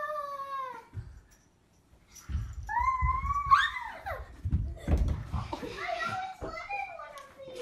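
A cat meows several times in drawn-out, wavering cries, with children's voices and bumping noises around it.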